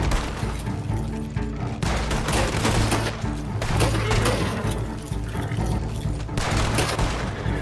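Gunfire in Red Dead Online, dense continuous shooting and echoing shots over several seconds, loud and close, with a second volley starting near the end.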